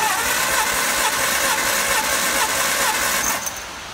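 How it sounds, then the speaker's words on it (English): A cold 1954 MG TF four-cylinder engine cranks over on the starter during a compression test of cylinder one, giving a loud, steady mechanical whirring churn for several seconds before easing off near the end. "I'm gonna crank it over and find out what kind of compression"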